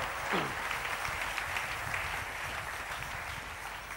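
A church congregation breaks into sustained applause, a dense, steady wash of clapping that carries on evenly throughout, with a voice sounding briefly near the start.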